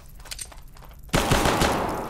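Sustained burst of rapid gunfire erupts suddenly after a quieter stretch in a spelunking horror video game, loud and dense, running continuously to the end.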